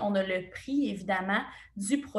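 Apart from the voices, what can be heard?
No everyday noise stands out behind the speech.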